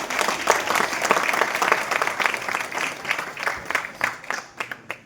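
An audience at a direct selling seminar gives hearty applause, a dense, continuous roar of many hands that thins out into a few scattered claps at the end.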